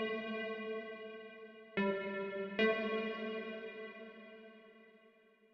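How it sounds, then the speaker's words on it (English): A synthesizer patch from a Native Instruments expansion, played through the Realm reverb plugin set high, holds rich sustained chords with two fresh attacks that ring out and decay into a long, washy reverb tail. "Now I'm going to add Realm to give it some reverb."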